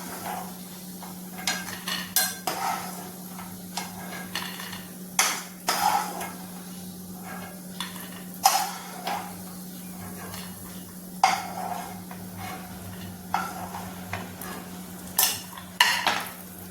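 Peanuts roasting in a pan while a spoon stirs them, giving repeated metallic scrapes and clinks against the pan over a low steady hum and faint sizzle.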